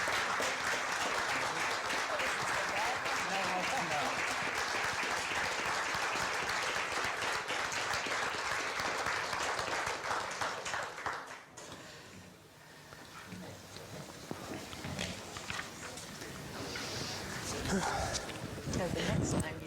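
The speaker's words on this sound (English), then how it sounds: "if you'll join me in applauding our candidates for being brave enough to come out here tonight" An audience at a Long Range Mountains election debate breaks into loud, sustained applause for the candidates, a dense wash of clapping that dips briefly midway, then swells again with voices mixed in.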